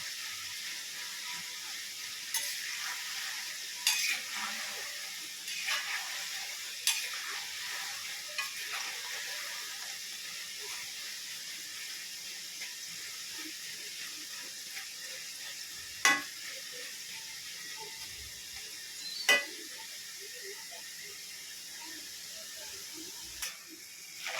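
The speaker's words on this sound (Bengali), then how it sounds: "হালকা হালকা করে নাড়ছি" Nimki frying in hot oil, a steady soft sizzle that carries throughout, with light stirring and a few sharp utensil clicks against the pan standing out now and then.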